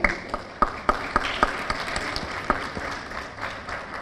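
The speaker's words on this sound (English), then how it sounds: "Please keep the claps going." Audience applause at an HR services and technology summit, a scattered, thinning patter of claps with a few sharp individual hits, moderately loud and fading over a few seconds, with no talk over it.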